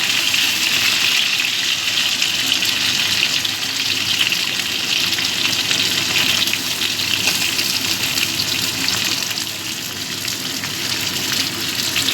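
Beans tip into a pan of frying potatoes, giving a loud, continuous hissing sizzle that fills the whole stretch and eases slightly toward the end, with no speech.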